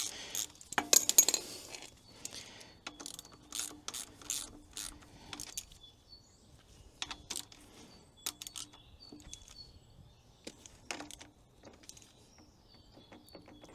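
A ratchet snugging up brake fittings during a brake repair, with bursts of rapid clicking pawl strokes separated by pauses and some metallic rubbing, close and fairly quiet.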